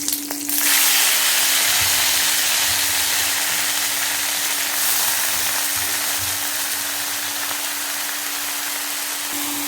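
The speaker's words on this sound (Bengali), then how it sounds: "কাঁচা লঙ্কাটাই ফোড়নে দিয়ে দিলাম" Green chilies tempering in hot oil for a pumpkin-leaf dish, a loud, steady sizzle and hiss that swells right at the start and holds evenly, with a faint hum underneath.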